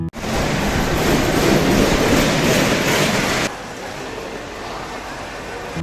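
A Canning local train stands at Sealdah station, its loud, steady rolling roar filling the first few seconds before dropping abruptly to a quieter station hum.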